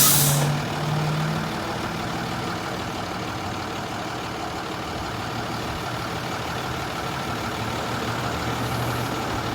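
Heavy fire trucks and tow trucks idle steadily at a crash scene where a U-Haul plowed through fencing, a loud continuous engine rumble with a brief hiss at the start.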